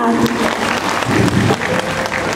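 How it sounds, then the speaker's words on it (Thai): Guests at a Thai wedding reception applauding, a full steady round of clapping from the crowd with faint voices underneath. "ขอเสียงปรบมือดังๆ"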